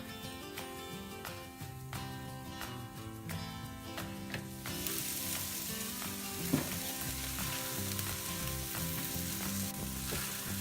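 Beef shish kabobs sizzle on a grill with a steady, loud crackling hiss, while a continuous musical tone runs underneath throughout.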